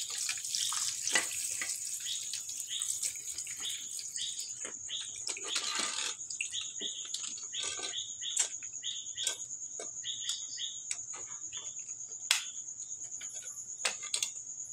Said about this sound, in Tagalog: dapat tuloy-tuloy yung tubig, yung labas